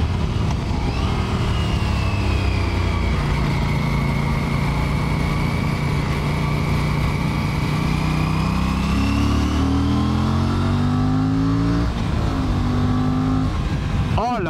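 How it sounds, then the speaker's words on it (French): An Aprilia RS 457 motorcycle engine pulls hard on the road, a loud, continuous rising drone through the gears with wind rush, heard from the rider's position as a voice talks over it. "Le bruit qu'elle fait, c'est une dinguerie."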